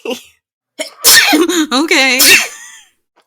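A single close, loud sneeze bursts out right after a brief spoken word, with a sharp intake and a strong voiced release, then quiet.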